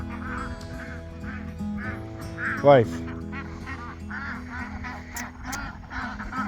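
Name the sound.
ducks quacking while being moved on a homestead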